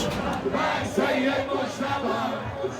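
A large crowd of mourners chants in unison for Iran's new supreme leader, a dense roar of many voices rising and falling together with no single speaker standing out.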